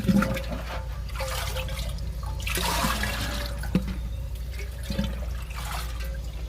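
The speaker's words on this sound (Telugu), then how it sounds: "రెండు బకెట్లలో వాటర్ తీసుకున్నాను. వాటర్లో డైల్యూట్ చేసుకుందాం." Water gushes and splashes into buckets for diluting homemade liquid fertilizer for plants; a steady, close rushing pour with occasional louder splashes and knocks, no voices.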